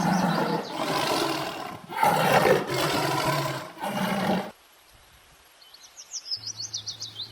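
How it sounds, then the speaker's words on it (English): Several deep, rumbling roars from a tiger, loud and close, in repeated bursts, followed by quieter chirping bird calls. "T for tiger"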